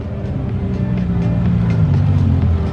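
Ferrari LaFerrari Aperta supercar in pearl white passing close by, a loud, steady engine roar with low rumbling throughout and no talk over it.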